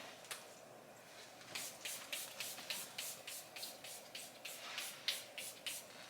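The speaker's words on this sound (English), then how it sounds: "I need to stop spraying this because this bottle is a bit expensive" A perfume bottle gives one quick spray, then a rapid string of about a dozen short, soft hissing spritzes in an even rhythm, close but quiet with no talking.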